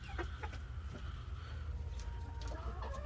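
Brahma meat roosters cluck softly and intermittently, several short calls over a low, steady background rumble, moderately close and quiet.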